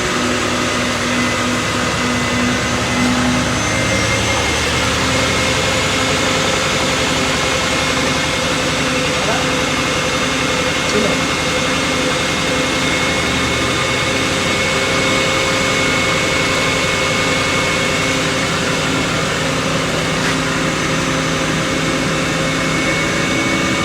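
A commercial washer extractor runs steadily, a loud continuous mechanical hum and whir with a faint rattle from the machine structure, unbroken for the whole stretch.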